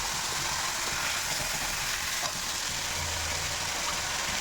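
Chicken frying in leftover oil while biryani is being made, a continuous, close, even sizzle with no talking.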